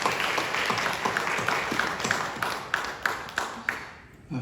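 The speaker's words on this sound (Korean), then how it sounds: "우리 박수로 축복합니다." Congregation clapping during a Sunday church service, a dense patter of many hands with a few sharper individual claps standing out, tapering off near the end.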